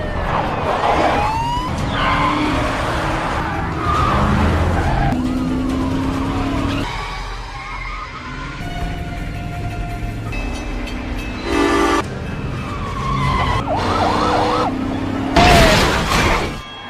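A police car chases a fleeing car with its sirens wailing in sweeping tones. Engines roar and tires skid in a loud, busy action scene, with blaring horn-like blasts and crashes breaking in.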